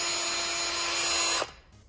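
A power drill whines steadily and loudly while porting aluminum LS cylinder heads, then cuts off abruptly near the end and spins down.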